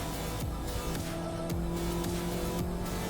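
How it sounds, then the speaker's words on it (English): Hyundai Exter micro SUV petrol engine revving toward its redline at high RPM, a steady droning tone with rising harmonics heard from inside the cabin, continuous and moderately loud with no talking. "there is some amount of noise that comes in from the engine at higher RPM"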